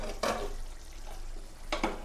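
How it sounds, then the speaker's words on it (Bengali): A spoon stirs and mixes a Pui mituli dish in a pot, two brief scraping clinks about a second and a half apart over a soft simmering background. "এখন ভালো করে মিলিয়ে নেব।"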